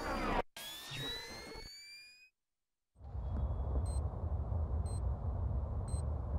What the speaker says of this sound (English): That's the sound of a wall mine.